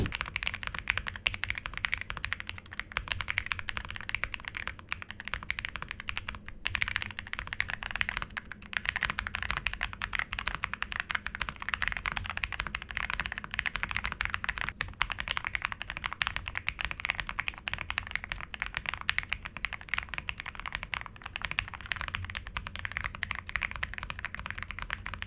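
Steady, continuous typing on an RK R65 65% budget mechanical keyboard with stock switches, a dense stream of crisp keystroke clacks at close range running without pause and with no voices.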